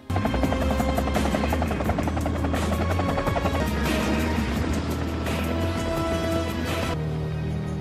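A helicopter's rotor thumps rapidly and steadily with a loud engine whine, close and constant, then the sound shifts slightly near the end.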